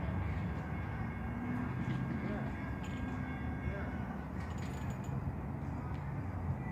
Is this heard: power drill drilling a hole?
no